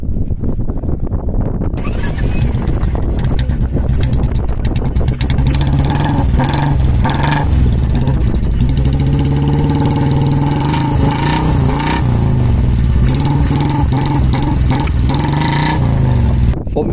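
Royal Enfield Classic 350 motorcycle with a free-flow bent exhaust pipe and silencer revving close up, a loud throbbing engine note rising and falling in repeated throttle blips after a brief quiet start.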